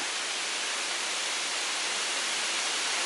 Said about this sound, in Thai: เป็นน้ำตก ชื่อว่าน้ำตกหลังเหวนะครับ